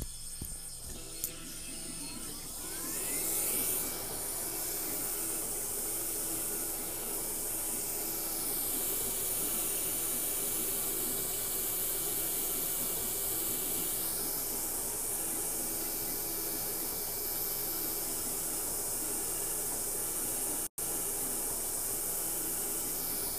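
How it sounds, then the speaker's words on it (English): Machine spindle spinning at 10,000 RPM with a vacuum chip collector running, a steady hissing, whirring drone that swells in after a few seconds and holds level and moderately loud, with one sharp click near the end. "We also have a vacuum chip collector system that will suck the chips out of the spindle."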